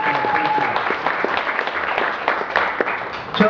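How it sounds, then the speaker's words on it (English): A convention crowd at closing ceremonies applauds for the artists, a steady mass of clapping with a few sharper individual claps and faint voices mixed in. "Yeah, give a round of applause."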